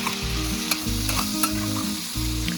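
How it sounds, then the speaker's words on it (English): Chopped tomatoes and pepper fry and get stirred in a pan, a bright hissing sizzle with scraping spoon strokes. A low rhythmic hum pulses underneath, close and loud, with no voices. "I'll stir this and allow this to fry just for a bit"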